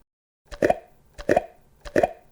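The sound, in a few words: opening a jar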